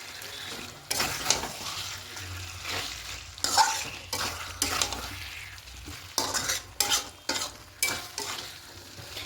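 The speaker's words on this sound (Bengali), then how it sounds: "এবার এখানে ক্যাপসিকাম দিয়ে দেব, দিয়ে আরও ভালো করে কষিয়ে নেব এভাবে" Chicken and capsicum stir-fried in a pan for chicken kosha, a steady sizzle broken by repeated loud scraping strokes of a spatula against the pan, close and alone without talk.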